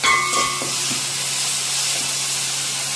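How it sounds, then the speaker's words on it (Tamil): Ginger garlic paste fries in a pan, giving a steady hissing sizzle that carries on evenly throughout, with a few brief clinks at the start and no talking. "இஞ்சி உள்ளி பேஸ்ட் சேர்க்குறாங்க"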